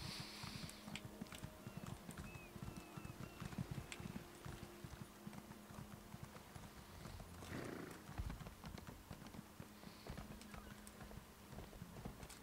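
A horse's hooves clip-clop at a walking pace in the Elder Scrolls Online, with a brief whinny partway through. The sounds are fairly quiet and sit over soft background game ambience.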